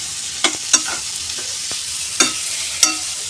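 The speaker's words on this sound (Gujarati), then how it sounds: "આ રીતે વટાણા અને બટેકા બરાબર મિક્સ કરવાના છે" A mash of peas and potatoes mixed with chaat masala and other spices for aloo matar vada, with soft stirring and four or five sharper scrapes of a spoon against the bowl, close and alone.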